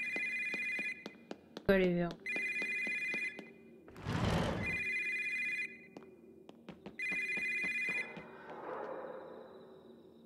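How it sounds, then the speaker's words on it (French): A telephone rings repeatedly at a save point in the horror video game Yomawari: Lost in the Dark, bursts of electronic ringing separated by gaps and mixed with game effects, while a voice speaks briefly. "ça sonne pour que tu sauvegardes"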